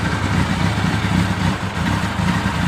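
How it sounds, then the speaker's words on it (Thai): A Suzuki Katana GS1100E 1100cc motorcycle engine idling nearby, an unusually loud, steady low rumbling putter with a faint rattling edge from bearings, no voices. "เสียงเครื่องมันดังแปลกครับ"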